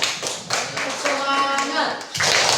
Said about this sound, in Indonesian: Sebelum kita pulang, tepuk tangan semua dulu.